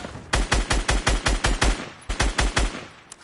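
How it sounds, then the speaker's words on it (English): Rapid bursts of machine gun fire in Fortnite, a steady close, loud stream of sharp shots in two runs separated by a short pause, with no talking. "I said, some machine guns."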